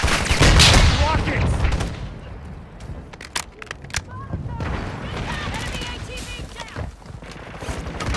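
Gunfire in Warzone 2, with a loud burst of shots up front, then scattered cracks and pops through the rest, mixed under game voices and chatter.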